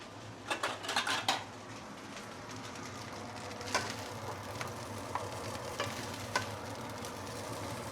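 Luncheon meat fried rice being dished up from a pan, a soft bed of sizzling under sporadic scraping and light clinks of utensil on metal, close and fairly quiet, with no talking.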